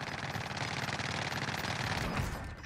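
Rapid rattling gunfire from a DMR rifle in Call of Duty Cold War Warzone, a dense burst of fast repeated shots at steady loudness lasting a couple of seconds.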